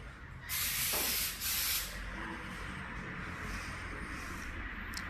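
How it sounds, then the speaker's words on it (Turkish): Two close, loud bursts of spray adhesive hiss from an aerosol can, the first long and the second shorter, over a steady background hum, during a ready-made wall molding installation. "bu şekilde spreyi aralarına girecek şekilde sıkıyoruz ve bunu sabitliyoruz"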